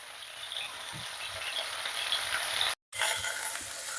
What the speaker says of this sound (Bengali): কিন্তু হালকা আছে, আমরা নেড়ে চেড়ে এটা ভেজে নেব।